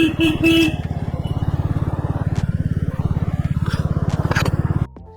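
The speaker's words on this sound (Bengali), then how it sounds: "আমরা পরপর পিছনে যাচ্ছি ছটা বাইক" A motorcycle engine throbs loudly and steadily nearby as a group of six bikes rides in a row on a shortcut road during a Kolkata to Mandarmani trip, with a short horn toot near the start before the engine cuts out.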